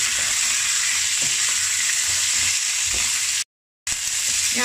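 Pork belly stir-fried and sautéed in a pan for a braised Chinese dish, a steady loud sizzle with faint stirring scrapes, cut by a brief silent gap near the end.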